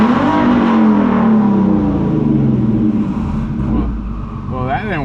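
A car engine fitted with an N2MB WOT Box 2-step launch control idles and revs loudly up close, pitch climbing and then easing, while someone talks over it.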